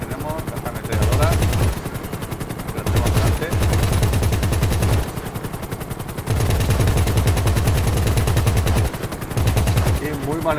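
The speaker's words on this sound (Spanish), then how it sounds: "Y tenemos las ametralladoras." Aircraft-mounted machine guns firing in GTA V, heard as sustained rapid bursts of automatic fire separated by short pauses, loud and close over a steady engine drone.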